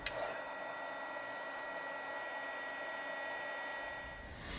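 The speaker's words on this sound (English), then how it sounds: "Now I'm just going to heat set the embossing powder and then add the sprays on top." A heat gun melts Ranger white embossing powder with a steady, faint whooshing blower hum that runs unbroken, with no talk.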